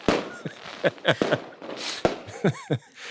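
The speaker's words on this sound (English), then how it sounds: "Why are there fireworks going off behind you?" Fireworks go off in a quick series of sharp bangs and crackles, several close pops spread unevenly over a few seconds, with whistling tones between some bursts.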